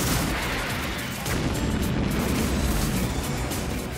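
A weapon fires in the trailer for the 1996 monster film Tremors 2: Aftershocks, making a dense, roaring blast of noise with a heavy low rumble that swells again after a brief dip.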